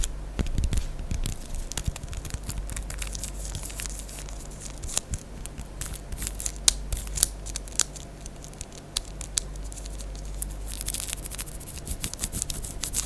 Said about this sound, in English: we will get a knife and try to cut this open in some form of ASMR fashion